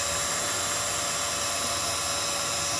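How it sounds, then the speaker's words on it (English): A high-pitched power drill whines steadily and continuously, boring a pilot hole into wood for a shadowbox without pause. "very carefully and straight, we drill our pilot hole top"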